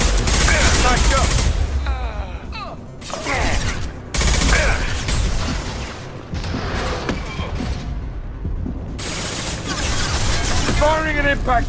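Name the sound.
impact shot gunfire in Mass Effect 2 video game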